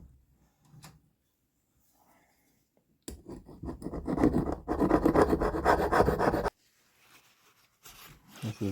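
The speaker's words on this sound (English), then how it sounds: "we're going to take a scraper. We're just going to scrape that gasket off." A scraper rasps an old gasket off the tailshaft mating surface of a Torqueflite transmission in a quiet workshop, with a few light taps before a dense burst of close, steady scraping that stops abruptly, then faint brief scratches.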